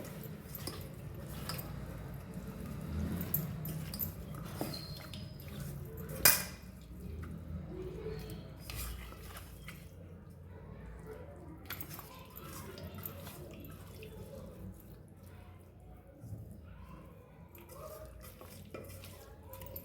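Chicken being stirred in a pot with a spoonful of coriander powder and salt, giving soft, steady scraping and clinking of utensil against metal, quiet and close, with faint wet squishing throughout.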